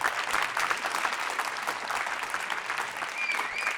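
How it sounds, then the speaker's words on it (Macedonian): An award ceremony audience claps steadily and densely throughout, a full, even wash of applause from a crowd. "Аплауз се молам!"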